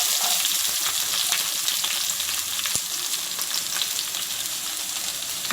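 Chopped shallots fry in hot oil in a pan for a curry, giving a continuous bright sizzle that stays even throughout, with one brief faint tap midway and no talking.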